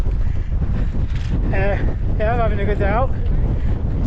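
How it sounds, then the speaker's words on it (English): Steady low rumbling wind buffeting a microphone outdoors, continuous throughout, with someone talking over it. "It's windy up here as it always is, but nice cool breeze."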